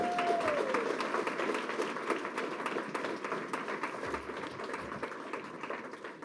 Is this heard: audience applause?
yes